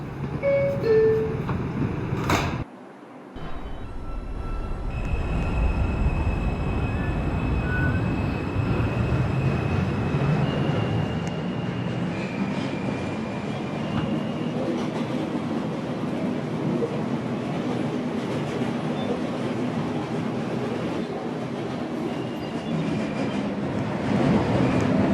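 A Bronx-bound New York subway 4 train runs along the track with a loud, sustained rumble and rising motor whine after a brief quiet gap, carrying on steadily with faint clatter and no speech.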